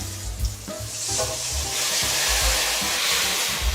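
Boiled lentils and stems tipped into a pan of frying pumpkin, setting off a loud, close sizzle and hiss that swells and holds steady with stirring clatter at the start.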